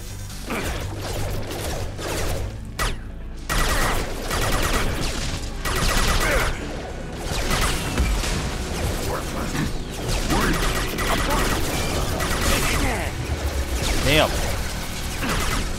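Heavy gunfire from a powerful weapon in the video game Mass Effect 2, dense repeated loud shots and mechanical clatter filling the scene amid continuous battle noise, with a voice talking over parts of it.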